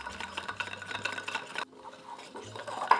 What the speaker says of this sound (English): We'll whisk that again.